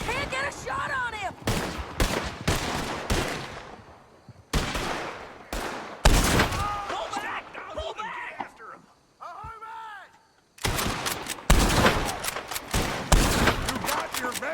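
Gunfire crackles through a wagon chase in the video game Red Dead Redemption 2, with loud clustered bursts of shots in rapid volleys broken by short gaps, while characters shout over the shooting.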